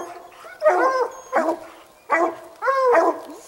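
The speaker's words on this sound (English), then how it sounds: "Good dogs. Get them, dogs, get them." Hunting hounds baying at a treed bobcat, several loud howling barks in a rough repeating rhythm, close by with no talk over them.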